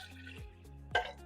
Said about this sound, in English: Then I open my coffee pot, and again, for me, pouring happens over the sink.